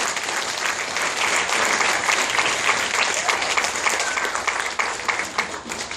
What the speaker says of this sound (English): I would like you guys to give a big round of applause for your waitstaff here at the Draft House.